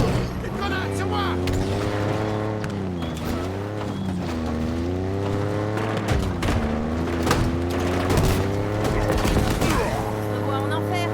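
Gunfire in the video game Halo Infinite, shot after shot under a steady engine hum and game music, with someone talking over it throughout.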